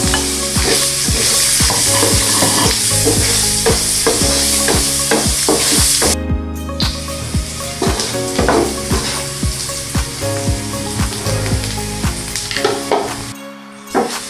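Chorizo sautéing with chayote, carrots and cauliflower in a pan for ginisang gulay, a loud, steady sizzle with frequent clinks and scrapes of a utensil stirring, close up and without voices.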